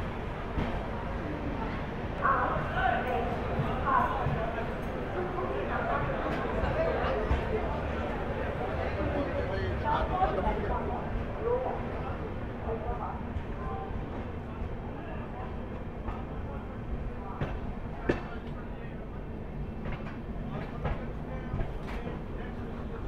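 A new Sairang–Anand Vihar Rajdhani Express pulls out of platform 1 at Guwahati station, a steady rumbling train roar with rail clatter filling the platform throughout, while people chatter nearby.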